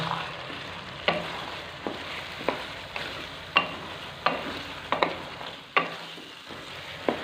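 Green peas are stirred into potatoes frying in a pan for aloo matar, sizzling steadily while a spoon scrapes and clacks in a regular rhythm of about a dozen close, sharp strokes, with no talk.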